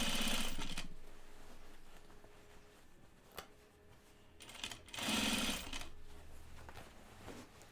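A sewing machine stitching denim jeans runs in two loud bursts, at the start and again around the middle, with quieter machine hum and handling noises between the runs; no one talks.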